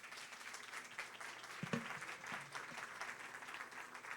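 Audience applause after a talk, steady, moderately dense clapping from a crowd heard somewhat distant and soft throughout, with a brief thump partway through.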